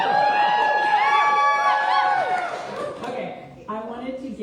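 Open mic audience cheering and whooping with clapping mixed in, loud, overlapping voices rising and falling in a burst of crowd excitement that tapers off.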